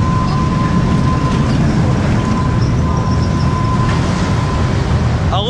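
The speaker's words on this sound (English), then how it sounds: "Whoa, train's going." The Pleasure Beach Express miniature train at Blackpool Pleasure Beach rolls past with a loud, steady rumble and rattling wheels, a faint whine running through it the whole time.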